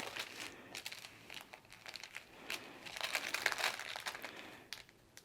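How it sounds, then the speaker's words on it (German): Perforated paper is peeled and torn away from a paper-pieced patchwork quilt block, producing close, quiet crinkling and tearing bursts that build irregularly over several seconds. "Dann entfernen wir das Papier."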